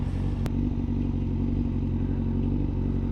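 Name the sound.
motorcycle pulling up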